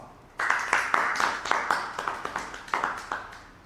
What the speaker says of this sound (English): So give yourself a lot of applause.